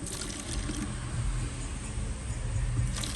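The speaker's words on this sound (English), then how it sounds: "So let me add a little water here." Warm water pours steadily into a foam cannon container, a continuous splashing rush that stays even and close throughout.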